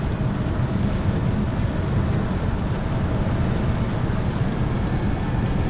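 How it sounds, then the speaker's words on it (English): Steady rain falls on an auction-bought Crown Victoria police car, heard from inside the cabin as a continuous low broadband rumble and patter, with the idle engine blended in and no voices. "It's raining."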